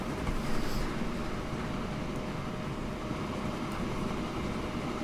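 A steady, continuous rumble of a moving train in the video game Transport Fever, even and unbroken throughout, with no voices.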